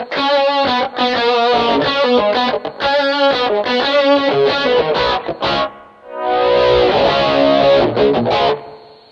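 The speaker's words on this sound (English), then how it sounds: "the edge sound, which is the first, I think the lower gain kind of distorted sound" Lower-gain distorted electric guitar through a Rockman headphone amp on its edge setting, playing loud chopped chords and riffs with brief gaps, then a sustained strummed passage.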